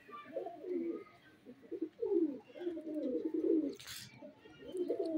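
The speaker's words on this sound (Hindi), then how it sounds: "ये देखें कबूतर" Pigeons coo in soft, throaty bursts close by, one call running into the next, with a brief flutter of wings partway through.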